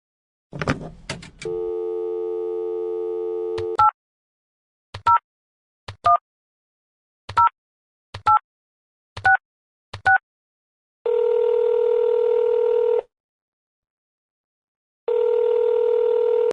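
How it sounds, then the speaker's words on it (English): A hotel room phone in the video game Nobodies: After Death: handset clicks, a steady dial tone, seven evenly spaced keypad tones, then two long ringback tones with a pause between them. The sound is clean and close with no talking. "To request laundry delivery, call 361-8744 from your room phone."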